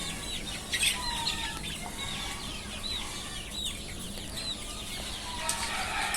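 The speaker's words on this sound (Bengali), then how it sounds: "এগুলো দেশি মুরগির বাচ্চা।" Desi chicken chicks, about 45 days old, chirping in a busy overlapping chorus of many short high peeps, close and continuous, with no talk.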